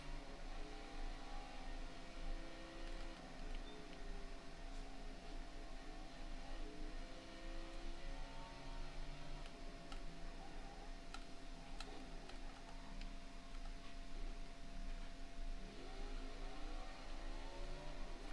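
Race car engine revving on the Sonoma road course in the NASCAR Heat 5 video game, a steady mid-pitched engine whine with rising and falling revs and faint ticking clicks throughout, no talking.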